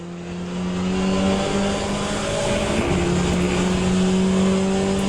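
Hypercars in the Le Mans Ultimate racing game roar past in a loud, sustained engine drone whose pitch shifts as the cars close in and pass.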